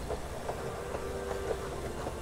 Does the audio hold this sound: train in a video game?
yes